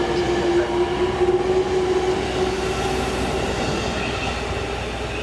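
A Japanese E653-1000 series limited express train rumbles steadily at a station platform with a sustained squealing tone from the wheels, continuous and moderately loud, no voices present.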